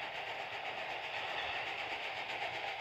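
A train running in a train simulator video game gives a steady, moderately quiet rumble of wheels and engine, an even continuous drone with faint rhythmic rail clatter throughout.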